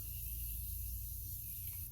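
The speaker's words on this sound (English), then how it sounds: "I'm gonna spray my face one more time and we are done." A continuous close hiss of setting spray misted onto a face, steady and loud for the full two seconds with no talking.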